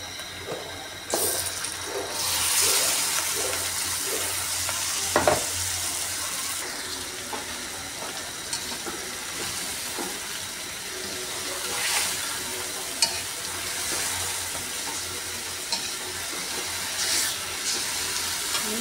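Chicken pieces frying with whole cardamom, cinnamon and bay leaves in a pan, a steady close sizzle with occasional stirring scrapes that goes on throughout.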